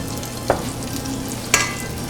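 Tamarind and bitter orange get stirred into a paste in a bowl, a steady wet churning with two sharp clinks of the utensil against the side, close and without speech.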